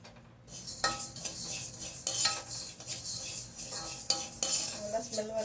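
Bisibela bath powder spices dry-roasting in a pan, with repeated scraping and clinking of a metal spoon stirring against the pan, close and fairly quiet, no talk.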